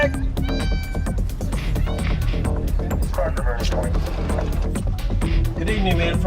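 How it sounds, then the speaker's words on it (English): Several cats meow repeatedly and overlap in a busy chorus of rising and falling cries, close and loud throughout, with a low throbbing rumble beneath and a voice briefly present. "Cats."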